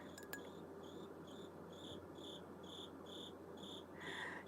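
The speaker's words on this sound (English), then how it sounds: "Crickets are back." Crickets chirp in steady, evenly spaced pulses, a faint high trill repeating about twice a second over a soft hiss of background noise, with a couple of light clinks near the start.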